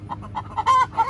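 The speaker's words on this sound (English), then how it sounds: "You got the Brahma singing." Brahma hens cluck in a quick, close run of short calls, ending in a louder drawn-out note like a hen's egg song.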